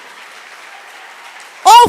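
Applause in a church service: a low murmur of crowd noise, then a sudden burst of loud clapping and voices at the very end.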